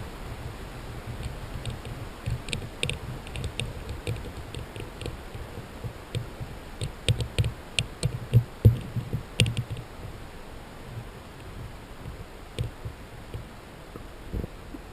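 Faint, irregular ticking and tapping clicks of a limestone fishing sinker on rock against a steady background hiss, growing busier in the middle and thinning out toward the end.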